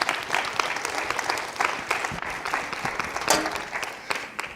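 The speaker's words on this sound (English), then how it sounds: "Thank you very much for clapping." Audience applause at a presentation, a moderate crowd clapping in an irregular rattle of individual claps that swells and dips over a few seconds without voices.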